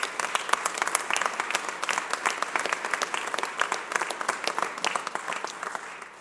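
Sustained audience applause honoring a city's firefighters, dense steady clapping from a crowd lasting several seconds before fading at the end.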